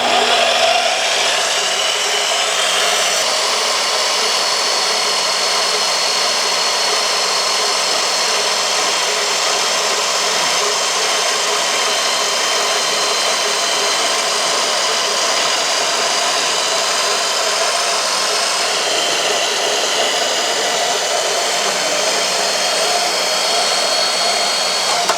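A power tool cuts a section out of a Tecate ATV handlebar, a loud, close, unbroken whirring drone that holds steady for the whole stretch with no talking over it.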